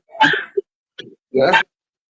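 A dog barks at home in three short, close bursts with pauses between them, loud and near, and no voices are heard.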